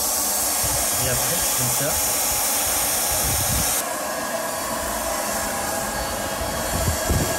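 Hot-air heat welding of a pool liner membrane: a steady, loud blowing hiss of the hot-air welder runs throughout, with a slight drop midway and brief speech over it.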